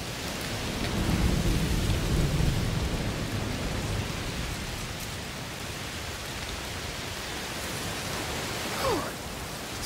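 Steady heavy rain hisses throughout in the video game A Plague Tale: Requiem, with a deep rumble of thunder rolling early on before fading under the downpour.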